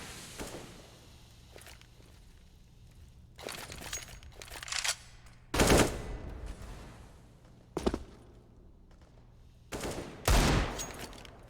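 Pistol shots ring out in Counter-Strike on the Mirage map during a competitive match, several sharp bursts spaced irregularly across the clip, some in quick pairs, over quieter footsteps and game ambience.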